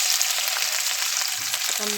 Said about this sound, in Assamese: তেল দি এতিয়া এই শুকান মাছকেইডোখৰ ফ্ৰাই কৰি দিম।